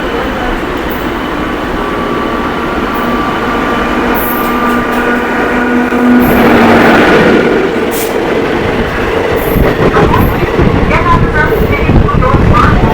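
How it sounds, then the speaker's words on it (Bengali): An express train, the Howrah Sahebganj Intercity Express, passes on the line near Howrah, a steady loud rumble of wheels and carriages that swells midway, with a voice talking over it. "তো সামনের থেকে একটা এক্সপ্রেস ট্রেন আসছে দেখতে পাচ্ছেন, সম্ভবত হাওড়া সাহেবগঞ্জ ইন্টারসিটি এক্সপ্রেস।"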